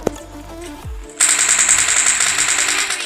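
A Kar98 bolt-action rifle shot in PUBG Mobile Lite: a sharp report near the start, then a sustained bright, rattling burst of game sound, loud and close.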